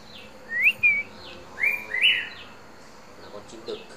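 A male green-plumaged red-whiskered bulbul, a hand-raised tame cage bird, gives several short bright chirps and whistled notes in two clusters, close and clear over a quiet room hum.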